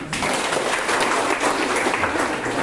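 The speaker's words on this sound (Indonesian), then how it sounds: "Tepuk tangan dulu." Steady, dense applause from a grade 11 class of 33 students as their teacher starts the lesson, sustained and fairly loud for nearly three seconds with no voices over it.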